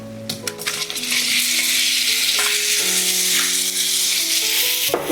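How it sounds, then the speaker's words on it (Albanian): Apples frying in melted butter and brown sugar to caramelize: a loud, continuous close sizzle with a few clinks of a utensil against the pan near the start and end, no voices. "shtojmë mollët për të karamelizuar."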